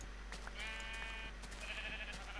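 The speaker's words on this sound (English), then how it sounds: "I'm going to go shear some more sheep" Sheep bleat in the Minecraft video game, two wavering bleats of about a second each, one after the other over a constant background hum, no talking.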